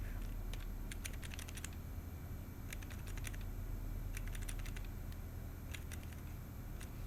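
Computer keyboard keys are pressed in short bursts of quick clicks separated by pauses, faint and close over a steady low background hum.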